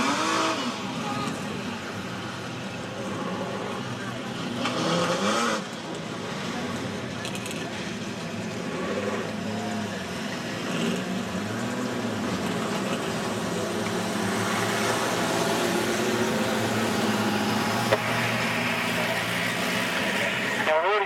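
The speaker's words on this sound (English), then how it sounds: "There's some good cars going around here." Outlaw sedan race cars roar around a speedway track at night, engines droning and rising and falling as they pass, continuous and fairly distant, under a commentator's steady talk.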